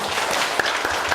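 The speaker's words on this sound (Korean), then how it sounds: "힘찬 응원의 박수입니다" An audience at an international conference on Japanese forced mobilization claps in encouragement, dense and sustained at a steady level through a short burst.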